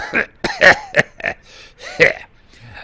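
A rough, guttural orc voice from a video game, The Lord of the Rings Online, coughs and hacks in several harsh bursts with gasps between, close and loud.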